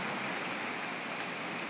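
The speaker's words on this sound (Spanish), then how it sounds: "comenzó ya la lluvia." Steady rain falls in Venezuela, a faint, even hiss of water that holds unchanged throughout with no voices or other distinct sounds.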